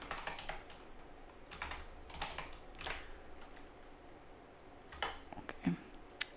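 Typing on a computer keyboard while entering settings into a Home Assistant configuration.yaml file, with irregular bursts of quiet, close keystrokes and brief pauses between them.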